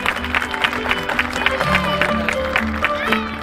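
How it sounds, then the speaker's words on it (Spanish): Audience applause for a Chilean folk dance couple at a Latin American folklore gathering, steady clapping mixed with crowd noise and a voice talking over it. "¡Qué buen aplauso!"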